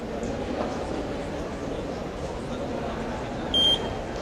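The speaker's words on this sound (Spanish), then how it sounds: "la máquina nos avisa con un pitido y concluye automáticamente el proceso de soldado" An Italsan electrofusion welding machine gives a single short, clear electronic beep as the weld finishes, over a steady low background rumble.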